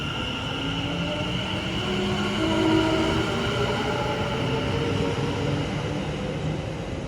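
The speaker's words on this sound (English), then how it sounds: "Arriving in now is the 1717 West Midlands Railway service from Walsall to Birmingham New Street" A West Midlands Railway train pulls into Walsall station, a steady rumbling rail roar with faint wheel tones holding at a moderate level for several seconds and no talk over it.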